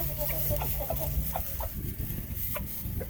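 Backyard chickens clucking at morning feeding time, a run of short close clucks and soft calls from several birds over low background noise.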